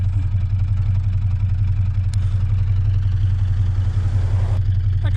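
A 1960s car engine runs at a steady, smooth idle, a low, even rumble with faint mechanical clatter and no revving.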